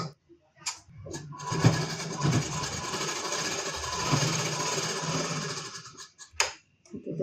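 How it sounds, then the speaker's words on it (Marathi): A sewing machine stitches a blouse in a long steady whirring run of several seconds, opening and closing with short bursts and brief pauses, close and fairly loud. "तर आता आपल्याला आणखीन एक शिलाई करायचं आहे."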